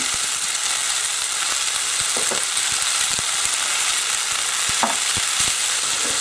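Green peppers, red peppers and carrot frying in a pan for a Mediterranean meat stew, a steady loud sizzle with occasional light taps and stirring scrapes, no voices.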